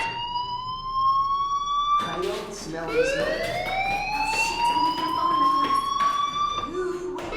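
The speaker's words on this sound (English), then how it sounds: "do you hear that fire alarm? That means you should be outside." An electronic fire alarm in the video game Life Is Strange sounds loudly as a steady, piercing tone that keeps repeating, with music or ambience and a voice speaking underneath.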